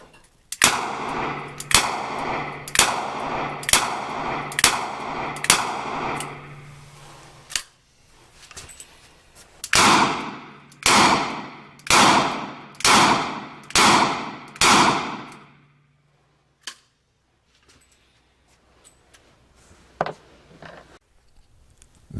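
A Ruger Redhawk revolver fires .45 ACP rounds at a range, two quick strings of five or six sharp close shots each, with a pause between the strings, followed by a few faint clicks.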